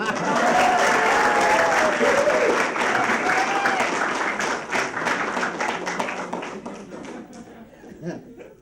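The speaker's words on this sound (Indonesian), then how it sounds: "Tepuk tangan dong." A studio audience at a television talk show breaks into loud, sustained applause that gradually thins and fades, with a few voices and laughter mixed in toward the end.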